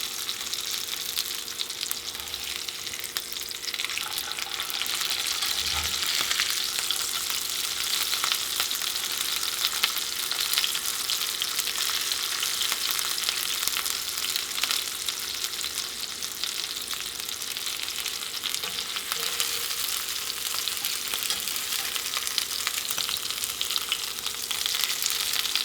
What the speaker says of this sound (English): I do try to push down on the steak to make sure that the edges and everything have an opportunity to come in contact with the pan itself.